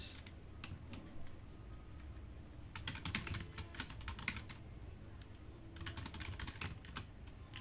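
Typing on a computer keyboard while editing a shell script in vim, with quick, close, fairly quiet key clicks arriving in bursts over a faint steady background hum, and no talking.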